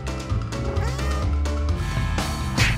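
A cat stuck in a tree meows repeatedly in a cartoon scene, short rising and falling cries over a busy musical background, fairly loud and close.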